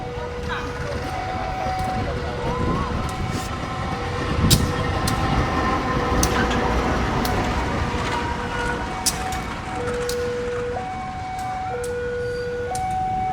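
KRL electric commuter train reversing onto track 2 on a Probolinggo to Madiun run, with a steady rumbling motor hum rising under throttle, stepped whining tones and continuous rail noise, people talking faintly over it.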